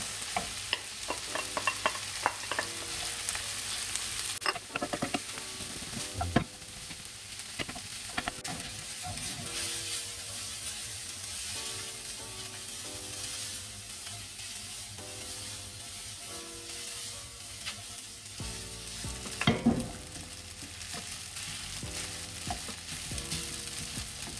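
Vegetables and rice stir-frying in a pan for omurice: a steady sizzle with repeated scraping and stirring clatters, a louder utensil knock around the middle, no talking.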